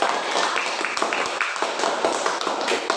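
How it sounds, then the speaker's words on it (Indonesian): A class applauds a student presentation group, with many hands clapping in a steady, dense patter close by that runs without a break throughout. "tepuk tangan buat kelompok 3"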